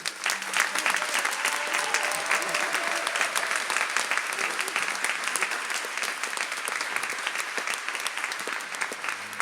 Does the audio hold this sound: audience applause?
yes